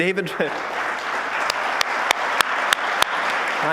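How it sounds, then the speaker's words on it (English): A conference audience claps for supporters at a political party conference, a steady wash of applause with a few sharper nearby claps, and a voice briefly heard at the start. "we can just give a clap to the people who supported us"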